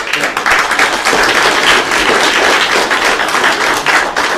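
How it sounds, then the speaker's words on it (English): An audience claps at the end of a technology talk, a dense, loud, continuous wash of applause lasting a few seconds, close and filling the room. "Are you clapping because we're done early"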